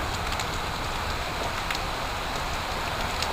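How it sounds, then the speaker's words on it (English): Heavy rain falling as a steady, dense, loud hiss that holds even throughout, with no talk over it. "Tortoises barely dare to come out in this kind of rain."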